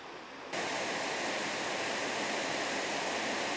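A steady, dense roar of a waterfall sets in abruptly and holds constant, loud and close, with no other sounds, in Sri Lanka.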